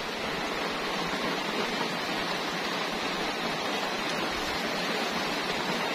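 Steady rain pours down on a farm, heard from indoors at a window as a dense, continuous hiss that stays loud and even throughout, with no voices.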